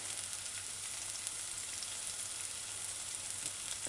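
Vegetables sauté on a stovetop turned up to medium-high for a broad beans pepper stew, giving a steady, even hiss of sizzling oil, close and unbroken throughout.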